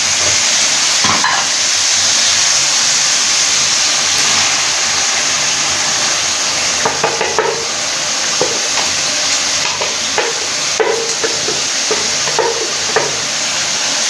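Ground spinach and mutton sizzle steadily in a pot as they are stirred together, with a constant frying hiss broken by occasional scraping clinks of the spoon against the metal.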